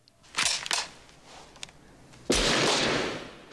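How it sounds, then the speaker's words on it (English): Paint guns fire in the 1991 horror film Child's Play 3, heard as a few sharp pops early on, then a louder sustained burst of noisy spray that fades over the last second. "Oh, it's their paint guns."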